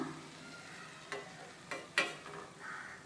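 Batter-dipped betel leaf bajji frying in hot oil gives a faint, steady sizzle with a few sharp ticks and pops scattered through it.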